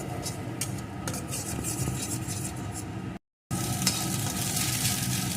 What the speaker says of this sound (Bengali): এখন ডিমটাটাকে এইভাবে নেড়ে ভুজিয়া তৈরি করে নেব